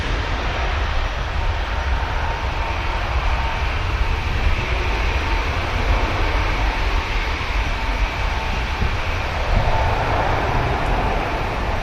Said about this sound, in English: There goes Ryanair,